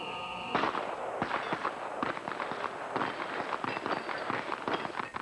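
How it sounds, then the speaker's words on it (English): Rapid .22 caliber pistol shots at the 1984 Bianchi Cup shooting competition, fired from 20 yards, a string of sharp cracks in irregular succession with some overlapping, outdoor range ambience between them. "Here, shooters use .22 caliber pistols and fire from only one position, 20 yards."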